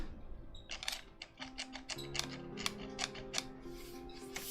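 Rapid dry clicks and taps from a pen being hit near a desk microphone, a dense irregular run of sharp ticks over a faint low hum, fairly quiet and close.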